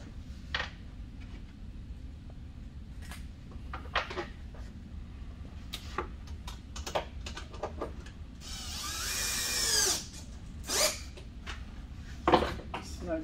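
A power drill snugs an OEM screw into a ROKBLOKZ fender on a 2017+ Can-Am Maverick X3, a short whirring run rising in pitch amid scattered clicks and knocks of handling parts.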